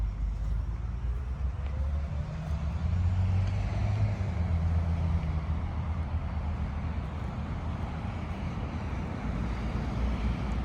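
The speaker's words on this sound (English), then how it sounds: "It's a Bondi Junction 390X bus from La Perouse." A Bondi Junction 390X bus from La Perouse rumbles past, a low, moderately distant drone that swells and fades over several seconds amid steady wind noise outdoors.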